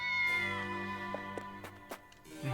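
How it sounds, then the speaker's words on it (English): A cat lets out a long, drawn-out meow that tails off, followed by a few short clicks and faint noises, fairly quiet and heard alone without speech. "Cat."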